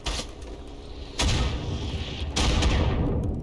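Explosions and rifle gunfire in a World War I video game, with two heavy booming blasts and sharp shots crackling loudly in close succession.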